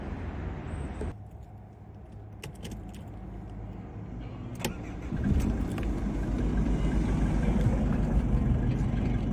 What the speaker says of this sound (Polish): Charakterystyczny klekot kojarzący się przynajmniej mi z taksówkami.